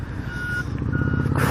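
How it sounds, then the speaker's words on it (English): A garbage truck backs up on a road, its reversing alarm sounding steady evenly spaced beeps over a loud low engine rumble close by. "Am I gonna be stuck behind the garbage truck?"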